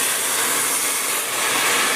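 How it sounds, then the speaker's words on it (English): Hot water poured into a pan of softened mirepoix for chicken soup, giving a loud, steady, broadband sizzling hiss that holds evenly for a couple of seconds with no talk. "You can hear that deglaze in the pan."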